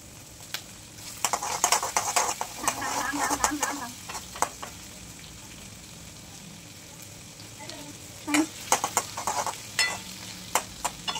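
Capsicum being stir-fried in a pan, with scattered clinks and scrapes of a utensil against the pan over a soft background sizzle, coming in bursts separated by a quieter stretch.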